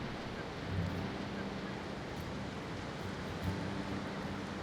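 Ocean surf washes onto the wild shore of Olympic National Park as a steady, soft, distant roar with faint swells, no voices.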